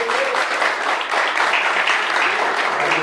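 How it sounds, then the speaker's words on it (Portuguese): A crowd at a church service applauds steadily for a few seconds, a dense wash of clapping with no pauses. "Você pode dar um aplauso ao Senhor da sua salvação."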